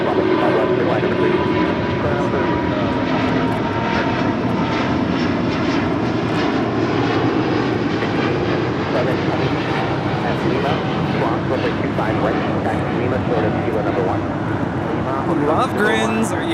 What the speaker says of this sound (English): We have SAS taking off here on the south side, flight 932, taking off to Copenhagen on the A350-900